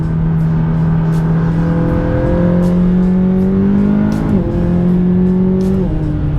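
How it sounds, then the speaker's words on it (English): A Chevrolet Corvette Z06 accelerates hard, its loud engine note climbing steadily in pitch, dropping briefly at a shift, then rising again, heard close up from inside the car. "that's how fast this car gains speed"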